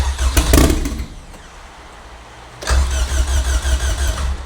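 A turbocharged Honda Civic with a K-series engine swap cranks and fires, giving two loud bursts of engine noise close by with a quieter lull between them.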